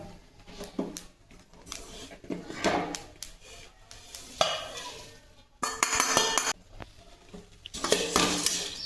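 Whole spices for black masala dry-roasted in a pan give repeated scraping and clinking of a spoon against metal, close and uneven, with brief rattling bursts of stirring and a short pause in between.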